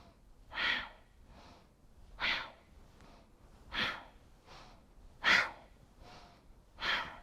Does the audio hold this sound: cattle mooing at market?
no